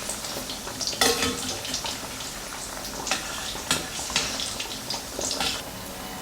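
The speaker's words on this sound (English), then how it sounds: "Flip the tofu pieces over to deep fry the other side until" Tofu pieces deep frying in hot oil, Chinese style, give a steady close sizzle with scattered sharper crackles and pops throughout, no talking.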